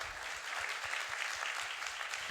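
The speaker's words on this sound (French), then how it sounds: "un tour d'applaudissements à François et Johan" An audience applauds François and Johan at an agricultural conference session in Meuse, steady dense clapping throughout with no voices.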